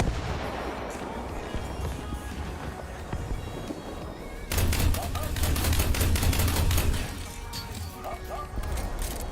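A video game firefight with bursts of gunfire crackling loudly over a busy battle din, growing denser and louder midway and then easing back to rolling background shooting.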